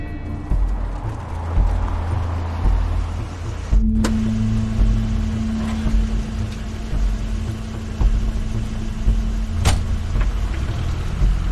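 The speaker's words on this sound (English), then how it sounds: "That's Crane's car." A car engine idles and rumbles in a video game scene, a steady low drone running the whole time with a sustained hum entering partway and a couple of sharp clicks, no voices.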